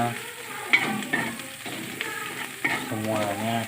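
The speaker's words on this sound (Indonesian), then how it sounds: "semuanya ditumis sampai layu" Fish stir-fried in a pan with pepper spice paste, the wet sizzle and scrape of stirring running steadily, close and moderately loud, with a few sharp clatters of the utensil against the pan.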